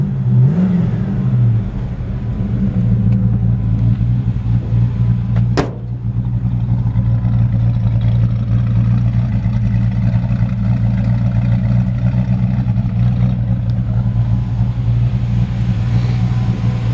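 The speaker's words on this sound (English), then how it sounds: "Nice sounding exhaust." A 1954 Chevrolet 3100 pickup engine runs with a deep, steady exhaust rumble, holding a constant idle on a cold morning for most of the stretch with one brief sharp click midway.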